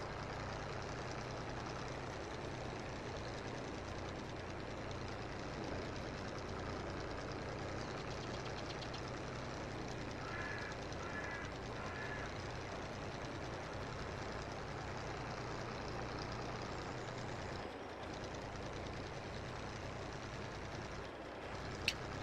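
A tractor engine in Farming Simulator 22 labors while hauling a heavy load of silage, a steady low droning rumble that holds constant and close throughout.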